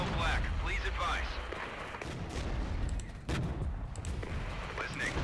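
Artillery and gunfire pound through a World War II Canadian assault in the game Regiments, a dense, continuous barrage with booming impacts, while voices talk over it.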